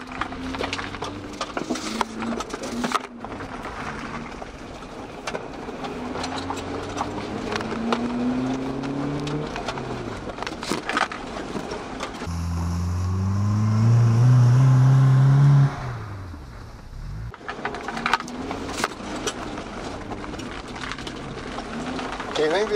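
A Subaru sliding around a field, its engine revving and rising in pitch under bumps and rattles, then surging into a loud sustained rev before cutting off, with a voice talking intermittently.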